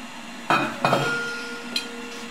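Metal parts clink while being placed into a pressure cooker sterilizer, two sharp knocks close together and a lighter tap later, fairly quiet over a low background hum.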